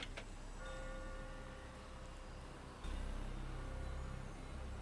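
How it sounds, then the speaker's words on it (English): A clock in the game Master Detective Archives: Rain Code ticks faintly and steadily under a constant wash of falling rain, with a low rumble coming in partway through. "The faint sound of a ticking clock melts against the sound of rain."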